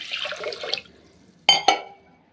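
Water splashes briefly into a vessel of rice and dal, a soft pour fading out, followed by two sharp knocks or clinks close by.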